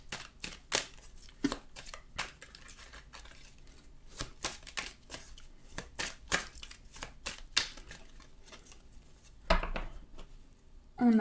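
Oracle cards being shuffled and drawn by hand, giving quiet, close riffles, flicks and slaps in irregular bursts throughout.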